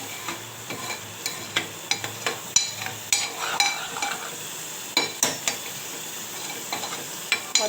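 Masala paste with onion and garlic roasts in an oiled pan, a steady close sizzle broken by frequent sharp scraping and stirring clicks throughout.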